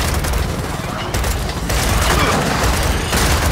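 Heavy incoming gunfire and explosive booms in the video game Gears of War 4, a dense, continuous barrage of shots and blasts close up, with a game voice talking over the clamour.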